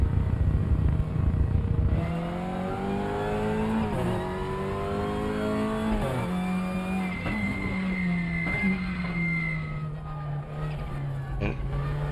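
Race cars in the RaceRoom racing simulator whine through repeated gear changes, engine pitch climbing and dropping close up, with other cars passing and faint tire noise.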